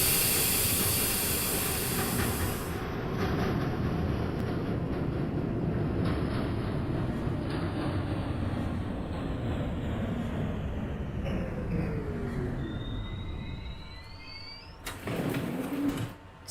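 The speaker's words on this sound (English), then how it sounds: "It's a Brooklyn bound 3 train." A New York subway 3 train rendered in the OpenBVE train simulator rumbles steadily with a constant hiss, then the motor whine falls away as it slows, ending with a brief burst of broadband noise near the close.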